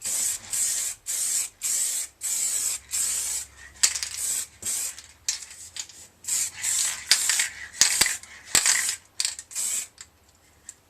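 Tint sprayed from an aerosol can onto the front of a Suzuki Bandit 1200S motorcycle screen in a garage, in short, close hissing bursts with gaps between them, mixed with a few light clicks and knocks.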